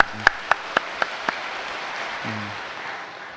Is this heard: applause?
yes